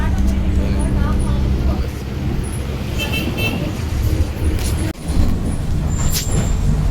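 Heard from a seat inside a bus: steady engine rumble and road noise, a sharp hiss of air brakes near the middle, and high horn toots from surrounding traffic. Some voices are heard in the background.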